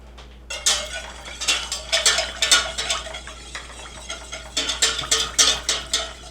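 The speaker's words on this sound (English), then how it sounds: "Now I need to whisk that together." Vinegar and spices being whisked in a bowl, a brisk rhythmic clatter of a whisk against the bowl in quick bursts, close and clear, with a short pause midway before the whisking resumes.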